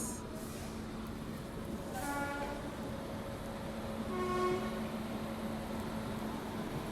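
The Pawan Express crossing a moving train on an Indian railway line, heard as a steady rumble of wheels with a faint, drawn-out horn in the distance, no voices.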